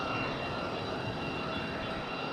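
Spirit Airlines jet airliner taxiing at Raleigh-Durham airport, giving off a steady, moderately loud engine rumble and hiss, unbroken and alone.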